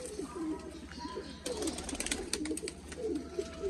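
Pigeons coo softly and repeatedly inside a breeder's loft, with low, rolling calls running steadily under a man's speech and faint rustling.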